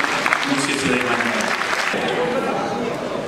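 Audience applause in a large theatre in Dakar as a guest is welcomed, dense clapping with some voices mixed in, loud and sustained before easing slightly.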